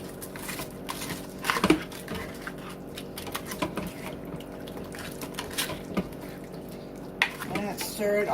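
A spoon works through frozen broccoli florets and chicken in a slow cooker, scraping and clinking against the pot in uneven bursts, close and fairly quiet.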